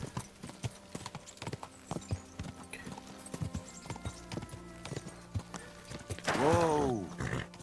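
Horse hooves clip-clop in a steady walking rhythm in Kingdom Come Deliverance II, close and clear, ending with a loud neigh near the end.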